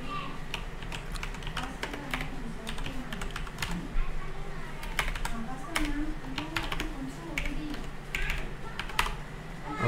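Rapid clicking of a computer keyboard, with irregular bursts of keystrokes over a low background hum, close and fairly quiet.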